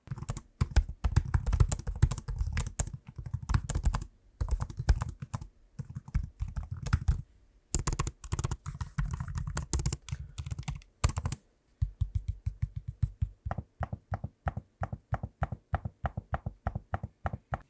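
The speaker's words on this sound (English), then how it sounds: "Here's a quick sample of the noise that comes from using the keyboard and trackpad" Steady typing on a Samsung Galaxy Book4 Pro 360 laptop keyboard with quick soft clacks, followed by a run of evenly spaced trackpad clicks, close and fairly quiet.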